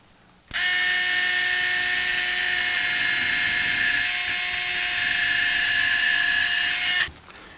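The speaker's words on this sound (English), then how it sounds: "you want to drill your shaft screw, and I drill eccentrically for compression mode" A surgical drill bores an eccentric shaft screw hole through ankle bone during tension band plate fixation, giving a loud, steady high-pitched whine that starts abruptly and runs unbroken for about six and a half seconds with no talk.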